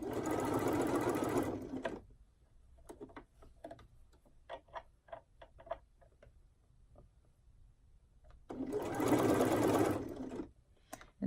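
A sewing machine stitches swimwear fabric in two loud fast runs at the start and end, with light ticking and handling clicks from the machine and fabric in between.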